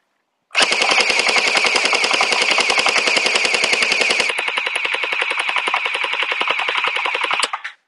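A VDD Toys M4 Wasp gel ball blaster with a drum magazine fires in one long full-auto burst, a rapid, even chatter of shots lasting about seven seconds, close and loud with no other sound.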